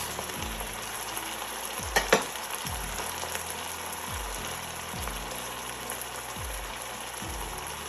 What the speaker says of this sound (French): Il faut frire juste 3 minutes.